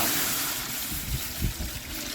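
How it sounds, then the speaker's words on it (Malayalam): Two kilos of strained jaggery syrup poured into a pot over a fire for Kerala ada pradhaman, giving a steady wet, trickling wash with a few soft low splashes. "രണ്ട് കിലോ ശർക്കര നമ്മൾ പാനിയാക്കി അരിച്ചതാണ്ടേ അടുപ്പയിലോട്ട് ഒഴിച്ചു കേട്ടോ"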